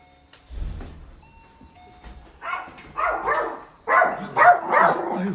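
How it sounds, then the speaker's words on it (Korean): A dog barks at a market in the early morning, around 4:30 a.m. A single low bark comes first, followed by a run of louder, closer barks and yelps. "아 강아지가 많이 짖네"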